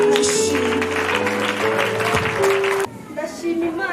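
A church congregation applauds loudly over sustained keyboard music, the dense clapping filling about three seconds before cutting off abruptly into quieter music.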